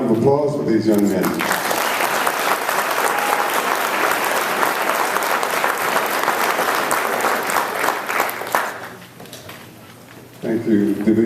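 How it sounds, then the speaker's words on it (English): An audience at an officer of the year awards ceremony gives a round of applause for CAL FIRE law enforcement officers; dense, loud clapping fills most of the stretch and fades out, with someone speaking briefly before and after. "One more round of applause for these young men."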